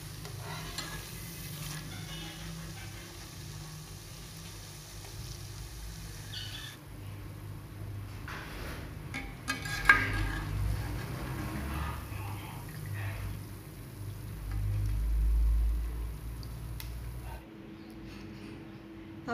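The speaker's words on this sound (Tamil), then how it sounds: "இது மாதிரி சலசலப்பு அடங்கினோன்னு திருப்பி விட்டுக்கலாம்." Rice flour ribbon pakoda sizzles in hot frying oil, a soft steady bubbling hiss with a low background hum and occasional stirring clatter, easing off toward the end.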